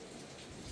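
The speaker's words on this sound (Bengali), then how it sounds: "ওটা বৃষ্টির আওয়াজ।" Steady rain falling outside, a dense, even wash of drops that holds constant through a brief moment, with no voices.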